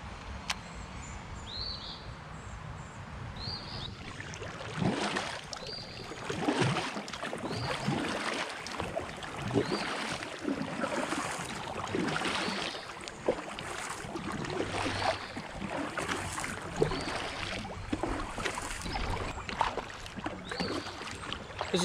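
Kayak paddle strokes on a small river while fishing for smallmouth bass, soft rhythmic splashes and drips close by over steady flowing water, with faint birdsong in the background.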